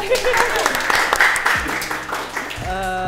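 A school audience claps in a scattered burst of sharp hand claps that thin out, mixed with voices talking over them.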